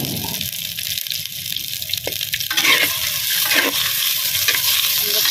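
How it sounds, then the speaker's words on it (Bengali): Onion hits hot oil in a heated wok (kadai) and sizzles loudly and steadily, with scraping stirs breaking through the dense frying hiss; no one talks. "পেঁয়াজটা দিচ্ছি, আমরা পেঁয়াজটা ভেজে নেব।"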